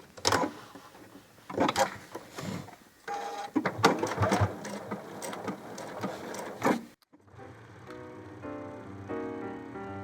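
Sewing machine backstitching the seam of a fleece peeker hat, a run of rapid mechanical stitching bursts with brief pauses, close and fairly loud, then a quieter patch of faint ringing tones at the end.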